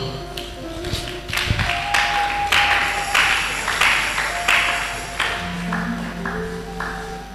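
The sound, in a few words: congregation clapping hands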